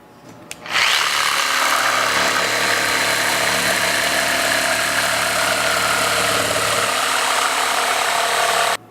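A power tool cuts wood pieces for a Shaker table: a loud, steady whine starts abruptly, runs evenly for about eight seconds close by, then cuts off, with no talk.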